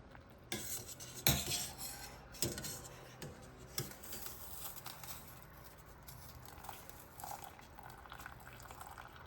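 Noodles lifted out of a boiling pot with utensils, faint clinks and scrapes of metal against the pot over a soft bubbling background, quiet and close.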